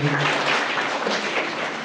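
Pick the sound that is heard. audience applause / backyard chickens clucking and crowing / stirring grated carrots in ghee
audience applause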